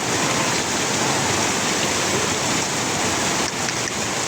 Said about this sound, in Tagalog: Biglang buhos talaga ang lakas na ulan na to.